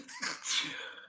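A single close sneeze, a sharp breathy burst followed by a fading exhale.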